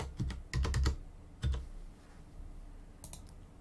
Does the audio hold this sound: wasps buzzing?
no